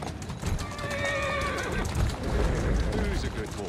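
A single drawn-out whinny from a horse in Assassin's Creed Syndicate, close and clear, rides over steady clip-clop hoofbeats that continue after it fades.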